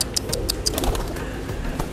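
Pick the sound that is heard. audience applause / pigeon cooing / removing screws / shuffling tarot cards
pigeon cooing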